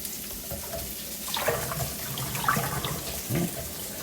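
Water draining from a bowl while cooking breakfast with sausage, a steady gushing, splashing flow with a few louder sloshes, close and alone without talk.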